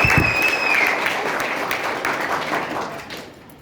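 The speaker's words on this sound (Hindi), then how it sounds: "चले जोरदार ताली बजाए।" Vigorous clapping from a crowd at a Safe Shop closing event, with a brief high whistle at the start, the dense applause slowly fading over several seconds.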